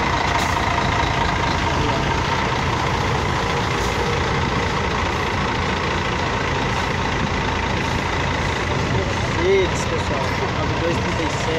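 A Mercedes Bluetec bus engine idles at the Novo Rio bus station, a loud, steady diesel rumble that fills the air while people talk over it.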